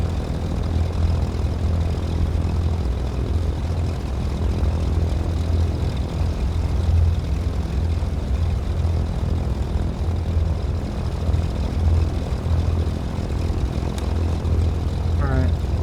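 A propeller airplane engine idling steadily while taxiing in a flight simulator game, a constant low droning hum with a faint voice talking at moments over it.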